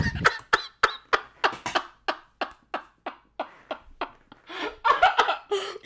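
A person coughs in a rapid series of sharp bursts right after laughing, about a dozen close, loud hacks in a steady rhythm, breaking into giggly laugh sounds near the end.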